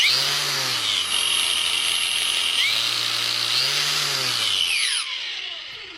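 A repaired angle grinder is switched on and runs with a loud, high electric whine that rises and falls slightly in pitch, then winds down near the end, close up with no speech.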